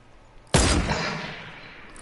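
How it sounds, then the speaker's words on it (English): A single loud sniper rifle shot in Fortnite cracks sharply after a quiet moment, then leaves a long echoing tail that fades over the following second and a half. "I'm sniping"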